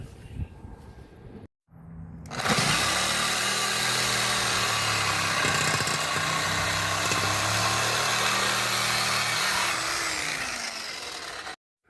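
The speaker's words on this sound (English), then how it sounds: "So I'm going to go ahead and get my Sawzall out, and we're going to go ahead and do that." A Sawzall reciprocating saw trims a car muffler during exhaust repair, starting after a brief pause and running loud and steady for about nine seconds with a buzzing, rattling drone before cutting off.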